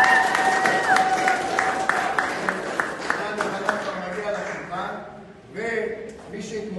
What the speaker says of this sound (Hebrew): מחיאות כפיים לעידן יוחנן.